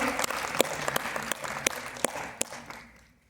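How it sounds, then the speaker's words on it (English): Audience applause at a stage event during a memento presentation, a sustained burst of clapping from a crowd with sharp individual claps standing out, fading away toward the end. "Please give a big round of applause."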